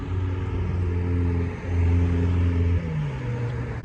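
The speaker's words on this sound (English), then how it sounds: "We've got a wonderful Ferrari 488" A Ferrari 488 supercar drives in at a busy car gathering, its engine giving a deep, steady rumble with shifting pitch as it rolls past nearby.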